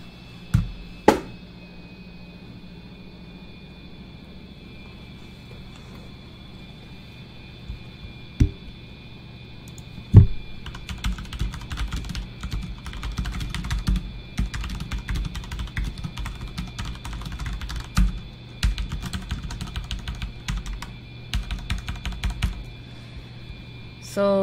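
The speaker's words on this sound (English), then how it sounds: "I will do a typing test so you could hear how this microphone" Typing on a computer keyboard captured through a Blue Yeti USB microphone, starting with a few isolated key clicks, then a fast, steady run of close, crisp keystrokes over a quiet room hum, with no speech.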